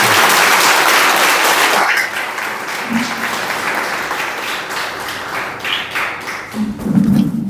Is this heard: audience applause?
yes